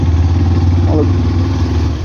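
A motorbike engine drones steadily and close while riding along a road through a forest, a continuous low hum with one faint brief tone briefly rising above it.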